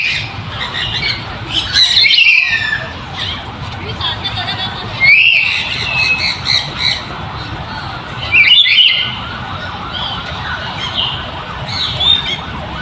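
Several rescued birds and eagles at a wildlife park in Quezon City squawk and shriek in sharp bursts every few seconds over a constant background hum, loud and nearby.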